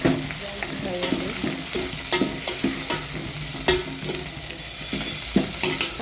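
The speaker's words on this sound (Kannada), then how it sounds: "ಉಳ್ಳಾಗಡ್ಡಿ ಮೆಣಸಿನ್ಕಾಯಿ ಎಲ್ಲ ಫ್ರೈ ಆಗ್ಯಾವ" Onions and green chillies with peanuts fry in a pan, a steady close sizzle broken by repeated spatula scrapes and clacks as the mix is stirred.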